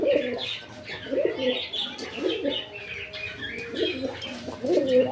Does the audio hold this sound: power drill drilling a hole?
no